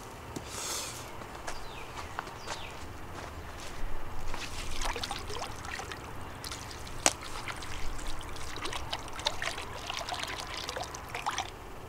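Warmer water poured for a beehive in 25°F cold, a close, soft trickle and dribble with small splashes and scattered clicks, steady over the whole stretch, with no talk.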